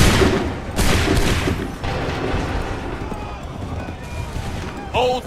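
Musket volleys crack out in an Assassin's Creed 3 battle, two loud broadband bursts with rolling reverberant tails, under a continuous battlefield din, with shouted commands heard at the end.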